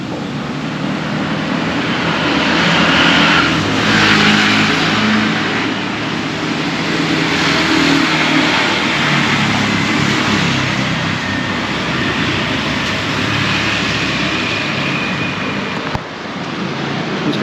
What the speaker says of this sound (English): if you overlook the traffic